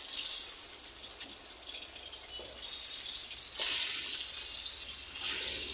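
Fish frying in a pan over a wood-fired clay stove gives off a steady, bright sizzling hiss that swells slightly in places, heard alone at moderate volume with no one talking.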